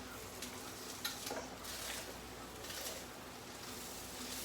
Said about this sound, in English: watch me stand here and fry hamburger meat